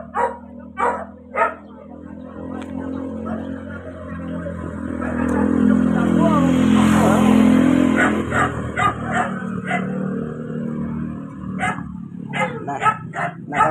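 A dog barks in sharp bursts outdoors in a village street in Silang, Cavite, a few yips early on and a series of barks later, with a passing car rumbling in the middle and people talking nearby.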